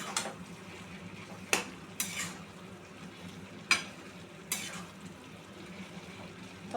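Bottle gourd, potato and prawn curry with ground spices, grated ginger and cumin stirred in a pot, a low simmering hiss broken by four sharp spoon scrapes and clinks against the pan.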